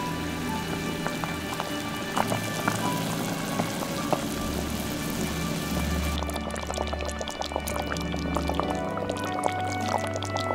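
Pork simmering in braising liquid with broth, scallion, ginger, bay leaf, star anise, cinnamon and cooking wine, brought to a boil over high heat; a steady close bubbling, spattering hiss runs throughout without a break.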